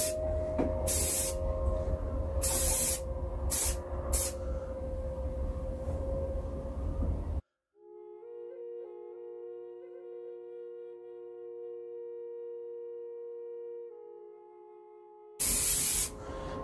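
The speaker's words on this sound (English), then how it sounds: "We'll just spray a bit at the top and the bottom." Short bursts from a new aerosol can spraying a very thin coat of lacquer onto a driftwood drone flute, several close hissing puffs in a row, then a steady tone, with the hiss returning briefly at the end.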